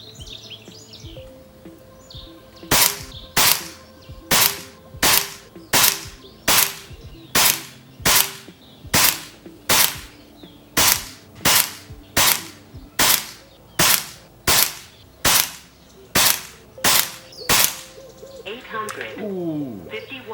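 Air Venturi Nova Vista air rifle firing H&N Baracuda pellets: about twenty sharp, loud shots in a steady rhythm roughly every 0.8 seconds, with faint birdsong in the background outdoors.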